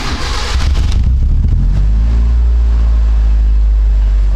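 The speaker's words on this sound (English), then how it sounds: "Now we can start the car." A Proton car engine cranks and starts, settling into a loud, steady idle rumble up close that runs without a break after the first second or so.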